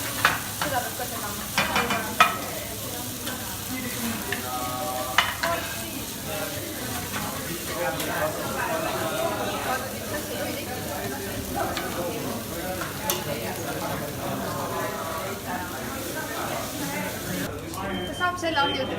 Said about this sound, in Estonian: Seda peab ka segama.